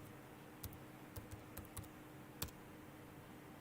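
A handful of light, crisp keystrokes on a computer keyboard tap out irregularly over a quiet room hiss. The clicks sound close but faint, with short pauses between them and no voice.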